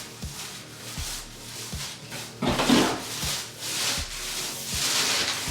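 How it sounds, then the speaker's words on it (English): A flat-edged smoothing tool scrapes repeatedly across freshly hung wallpaper, pushing out excess adhesive in a closet; rhythmic, close rubbing strokes roughly every second, with a louder swipe midway. "just make sure you use the flat edge to push all that excess adhesive"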